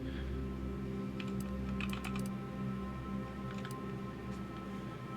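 Scattered bursts of computer keyboard keystrokes click quietly over a steady low hum, in a few short clusters of taps with pauses between them.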